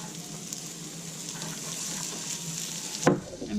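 About ten baby carrots sizzle in melted butter in a pot, a steady close crackling fry with a sharp clatter of stirring near the end, no voices over it.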